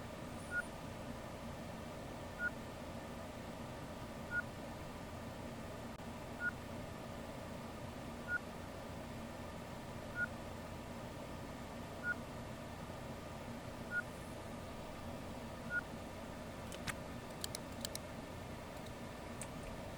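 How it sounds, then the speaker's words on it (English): Ostranauts low-oxygen O2 tank warning: a faint, high single beep repeating steadily about every two seconds over a low, constant hum. "I know the beeping's annoying"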